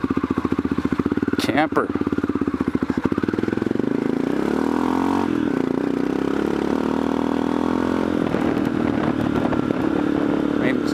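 An Aprilia Pegaso heavy dual-sport motorcycle engine runs steadily throughout, a loud pulsing idle that shifts pitch partway, with a person talking briefly over it.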